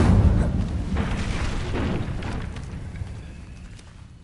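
A fiery whoosh and booming burst erupts as the Incendio fire spell is cast in Hogwarts Legacy video game, loud at the start and then decaying into a rumbling roar.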